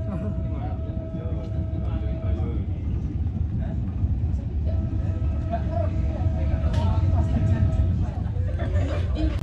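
A passenger train on a special livery parade run rolls along the line, heard from inside as a constant low rumble and rattle with faint tonal whines, while people talk over it.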